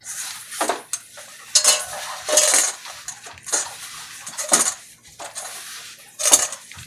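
Salisbury steak meat mixture mixed in a bowl, with bursts of scraping, clinking utensil strokes against the bowl in an uneven rhythm, close and fairly loud, no talk.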